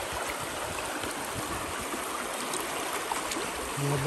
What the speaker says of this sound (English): I'm gonna basically go down and sluice this out.